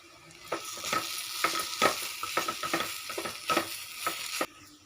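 Carrot coconut fry gets stirred in a pan after turmeric and chili powder go in, a soft sizzle under a quick run of scraping spoon strokes that stops abruptly.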